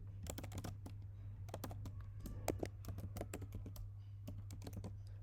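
Someone types on a computer keyboard, a string of quick, close, light key clicks in irregular bursts over a low steady hum.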